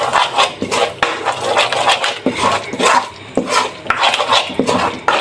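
Semolina and gram flour roasting in a pot over a slow flame, a spoon scraping and stirring in loud, rhythmic strokes with short pauses between them.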